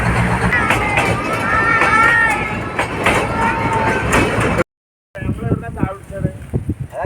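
A Matheran toy train rumbles past close by with rhythmic wheel clatter and metallic squeals, cutting off abruptly, then quieter rolling clacks resume with faint voices.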